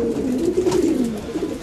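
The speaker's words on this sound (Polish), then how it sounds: "To jest gołąb właśnie już z tej nowej generacji Van den Abele razy Van Dijk." A racing pigeon of a Van den Abeele × Van Dijk cross coos close by, a soft, low, warbling burble that rolls on steadily for a moment without pause.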